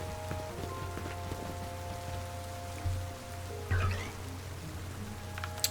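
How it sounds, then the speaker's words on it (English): Rain falls in Pokemon Legends Z-A, a soft steady patter beneath game music with sustained tones, broken by a couple of brief louder bursts. "It's raining."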